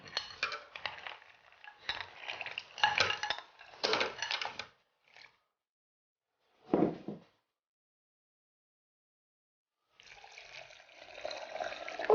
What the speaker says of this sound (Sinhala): මේ විදිහට වතුර එකතු කරගන්නවා